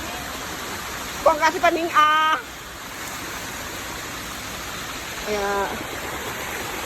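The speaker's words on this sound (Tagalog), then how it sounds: "ito yun na guys yung pangatlong falls" A waterfall flows with a constant broadband rush throughout, while people talk over it in brief bursts.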